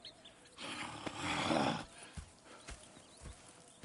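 Horses in the Red Dead Redemption II video game, with a soft snort or whinny swelling and fading over about a second, followed by a few faint hoof thuds and shuffles at low volume.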